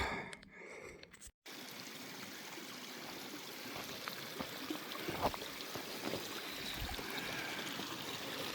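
A river rushing along a hiking trail on the Pacific Crest Trail, a continuous broad watery roar close by, with faint gurgles and splashes on top and no voices.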